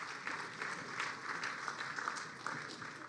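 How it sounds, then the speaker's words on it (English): An audience at a World Jewish Congress award ceremony for Kirk Douglas applauds in a steady, dense wash of clapping that holds throughout. "You're not supposed to applaud yet."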